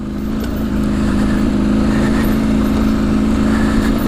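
KTM 790 Adventure motorcycle on the Claerwen Reservoir trail in off-road mode, its engine running at a steady, loud, close drone as it rides off, with no voices.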